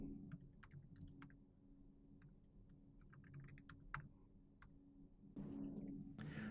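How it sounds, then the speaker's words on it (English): Typing on a computer keyboard indoors, a quiet run of irregular clicks and taps in short bursts over a low steady hum, with a couple of louder keystroke clusters near the end and no speech. "let me keep typing if I want to add just a few more"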